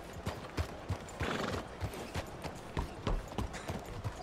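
A horse in Red Dead Redemption 2 clops along at an even walking rhythm, the hoofbeats clear and close, with a whinny partway through.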